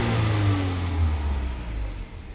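A 2020 Volvo S90 T6 AWD Momentum engine revs with a strong exhaust note, close and loud, with a low rising drone that swells and then settles over a couple of seconds.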